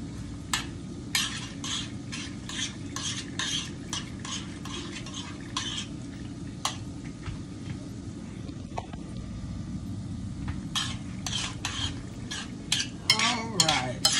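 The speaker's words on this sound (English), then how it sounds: "I'm gonna get that spoon out of there. Making all that noise." A spoon scrapes and clinks against a pan of cooking Italian sausage, giving repeated metallic taps over a steady sizzle nearby, getting busier toward the end.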